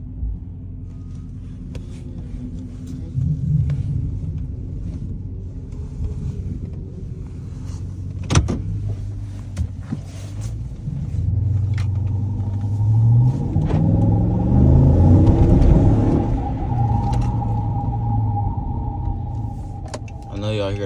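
An ex-police Dodge Charger starting cold and idling, a steady engine rumble that swells and roughens midway before settling, with an electric whine alongside; close to the car.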